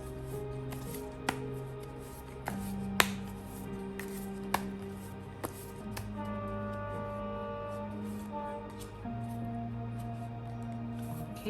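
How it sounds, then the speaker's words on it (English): A train horn sounds from a distance in long, sustained tones that shift pitch a few times, with light card-shuffling taps and clicks scattered over it. "that was a train horn"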